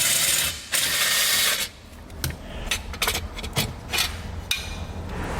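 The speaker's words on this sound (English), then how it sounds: "to remove this panel, you use a 10mm socket" A 10mm socket on a ratchet loosens bolts on a vehicle panel during a trailer brake controller install, a loud whirring burst followed by quick, close, uneven clicking ratchet strokes.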